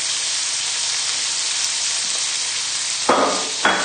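Chicken livers fry in a pan with a loud, steady sizzling hiss throughout, broken by two brief louder bursts of spattering or stirring near the end.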